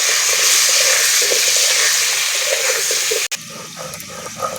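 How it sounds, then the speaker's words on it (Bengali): Potatoes sizzle loudly in a pan with salt and turmeric, a steady hissing fry that drops sharply partway through to a quieter crackle. "আলুর মধ্যে সামান্য নুন দিয়ে দিচ্ছি সামান্য হলুদ গুঁড়ো দিয়ে দিচ্ছি লাল লাল করে ভেজে দেবে আলুটাকে"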